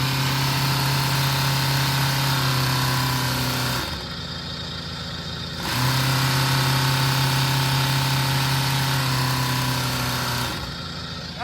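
A pressure washer pump with a cracked pump head runs steadily while spraying X6, a loud continuous mechanical hum that drops briefly twice as the load changes, then returns.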